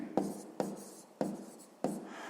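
Pen writing numbers by hand on paper during a sixth-grade maths exercise, four scratchy strokes spaced about half a second apart, close and faint over a soft room hiss.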